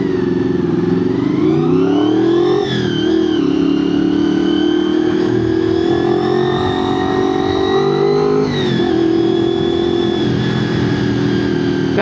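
A Honda VFR 400K motorcycle accelerating hard, its engine note climbing and falling through gear changes with a loud, continuous revving whine that stays close throughout.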